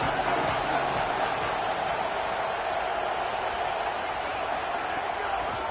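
Stadium crowd in a college football video game, a steady loud roar of cheering that holds level throughout.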